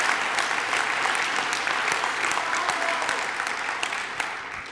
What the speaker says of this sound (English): And I don't need that applause